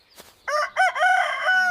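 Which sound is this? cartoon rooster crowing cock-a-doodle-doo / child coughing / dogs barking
cartoon rooster crowing cock-a-doodle-doo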